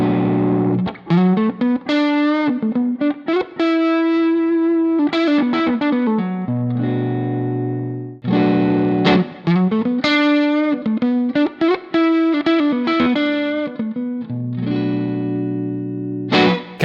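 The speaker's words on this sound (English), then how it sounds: "Let's start with the yellow distortion channel, and you'll definitely notice difference." An electric guitar rings out through a tube amp's yellow distortion channel with the gain at 5 and the controls around noon on a stock tube, playing loud, sustained distorted chords and riffs with short gaps and no talking.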